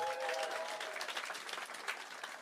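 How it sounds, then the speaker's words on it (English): Audience applause fills a comedy club, a dense, steady clapping that stays loud and close throughout with a few cheers mixed in. "give yourselves a round of applause"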